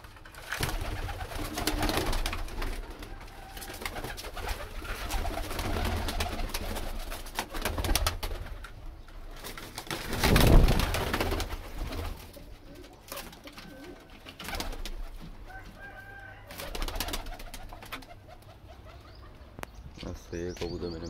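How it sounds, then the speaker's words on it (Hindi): Pet pigeons cooing nearby before release amid a busy, noisy background with rustling and some voices, the soft throaty calls recurring throughout. "ये मेरे कबूतर हैं माशाल्लाह से। आज मैं इनको उड़ाने जा रहा हूँ।"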